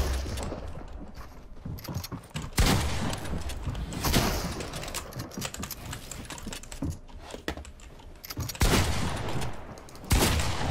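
Gunfire in a shooter video game, with bursts of sharp shots scattered among clicky keyboard-like tapping, moderately loud and continuous throughout.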